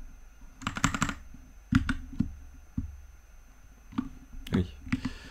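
Someone types on a computer keyboard in a quiet room, with irregular bursts of clicking keystrokes separated by short pauses, close and distinct.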